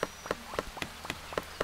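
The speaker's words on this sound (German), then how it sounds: "Ist das normaler Regen?" Rain in the Starbound video game, light pattering drops falling alongside regular soft thuds like footsteps or hits, close and moderately loud, with no voices.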